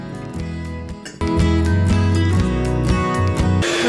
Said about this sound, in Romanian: le amestecăm cu mixerul până le spumăm.